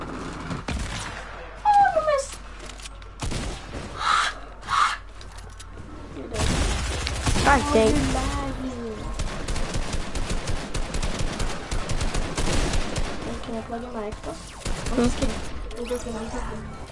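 Gunfire in a video game, with scattered shots, a glassy shattering burst and denser crackling fire later, mixed with game effects and intermittent talking.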